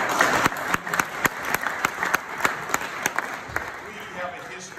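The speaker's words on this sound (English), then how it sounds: "You can clap for that." Audience applause after a speech about Jewish and African-American history, a steady patter of many hands clapping with sharp individual claps standing out, fairly close and continuous, fading slightly toward the end.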